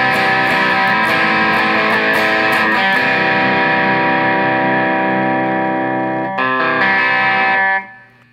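An electric guitar fitted with a prototype LED pickguard, played through a distortion effect: a loud, buzzing strummed chord rings out with a few restrikes, then cuts off sharply near the end.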